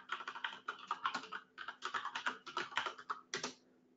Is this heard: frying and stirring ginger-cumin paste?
no